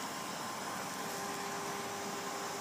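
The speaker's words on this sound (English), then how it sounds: "Why are you still watching me hoover my garden?" A vacuum cleaner hoovers a garden outdoors, a loud, steady broadband roar with a faint whine, continuous throughout and close to the listener.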